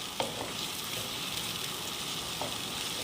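Cashews fry in a pan with a soft, even sizzle, low and constant, with a couple of faint clicks from stirring.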